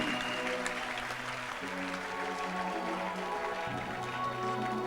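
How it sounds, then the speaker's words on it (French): A church congregation applauds and cheers loudly for Jesus, a steady wash of clapping under sustained instrumental music. "Acclamons très fortement pour Jésus."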